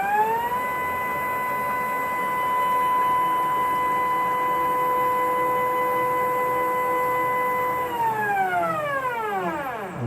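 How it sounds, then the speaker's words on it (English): Machine with all axes and spindle running in a demo: a steady, loud multi-tone motor whine that holds level, then winds down in pitch and fades near the end. "So that's all axes working, spindle is working"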